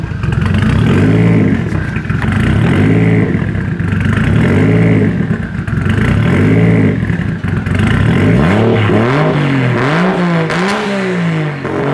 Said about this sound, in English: We got an exhaust leak. And it does this for like a second.